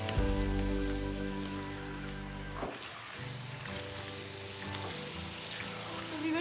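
A potato curry with yogurt sizzles in a pot on the stove, a continuous crackling fry with tonal background sound that drops partway through.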